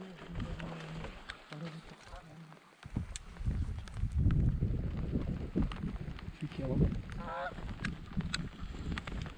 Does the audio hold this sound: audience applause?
no